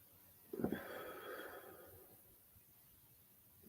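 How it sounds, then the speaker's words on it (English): A dog sniffs and snorts near a smoker in a quick burst of breathy puffs, followed by quieter snuffling against a faint background. "Dog sniffing around the smoker."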